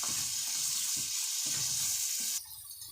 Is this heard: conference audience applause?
no